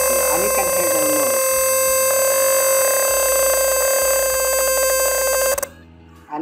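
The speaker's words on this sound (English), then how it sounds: "When the density is high, higher than 250, then we will have the alarm." A simulated buzzer alarm from an Arduino gas sensor circuit in Tinkercad sounds loud and continuous, a harsh steady electronic tone with pulsing texture that cuts off near the end.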